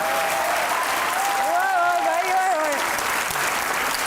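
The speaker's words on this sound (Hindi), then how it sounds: "तालियां बजाएं" Studio audience applause on a comedy interview show, a steady bed of clapping throughout while a voice's drawn-out, wavering tones ride above it mid-way.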